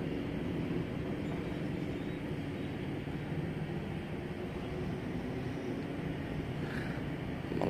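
Argo Wilis passenger train in special Christmas livery runs fast past the trackside on its way from Bandung to Surabaya, a steady loud rumbling roar holding the whole time without letup.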